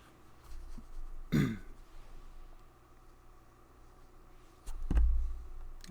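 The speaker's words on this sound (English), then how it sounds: "Don't know what is with this stupid little tickle cough at the back of my throat." A person with a tickly cough clears their throat twice, each a short, close, rough rasp, the second one heavier, set against a faint steady background hum.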